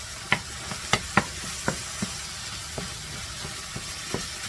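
Ground turkey browning in a frying pan gives a steady low sizzle. Several sharp stirring scrapes from a utensil punctuate it, with no voices.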